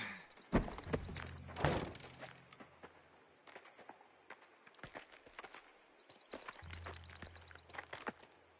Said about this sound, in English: I can hear footsteps, but I couldn't see where he was going